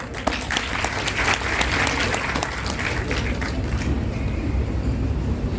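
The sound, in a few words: audience applause welcoming a poet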